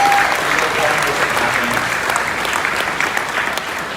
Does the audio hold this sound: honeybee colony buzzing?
no